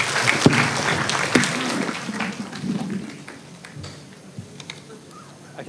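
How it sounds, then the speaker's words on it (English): An audience at a university lecture claps in a burst of applause that thins out to scattered claps, with a murmur of voices in the room. "give a big round of applause"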